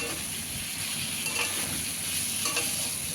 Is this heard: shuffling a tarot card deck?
no